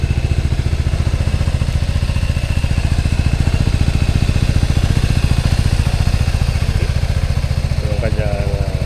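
A 2024 Italjet Dragster 200cc automatic scooter, Malossi Edition, idling close by with a steady, even putter that runs throughout. A voice is faintly heard near the end.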